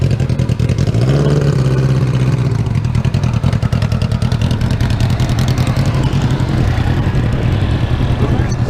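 A small dragster engine at a drag strip drones steadily and loud, with a rattling, clattering idle and a rise in pitch as it revs, while people talk nearby.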